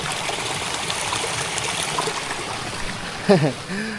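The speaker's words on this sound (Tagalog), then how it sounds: "Medyo lumakas nga yung tubig." Water runs steadily through a small stream during a rice harvest, a continuous trickling and gurgling under a few indistinct voices in the background.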